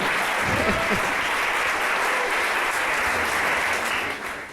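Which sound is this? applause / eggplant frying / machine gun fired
applause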